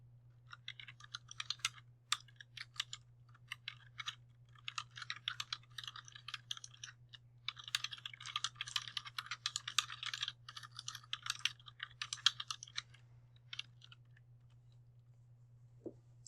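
Rapid bursts of computer keyboard typing, quiet and close, with clicky keystrokes in uneven runs and short pauses over a faint steady hum, as slide text is entered in PowerPoint for the web.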